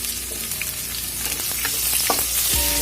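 Chopped onions and green chillies fry in a pan for poriyal, a steady close sizzle with a few stirring clinks and scrapes, no voices.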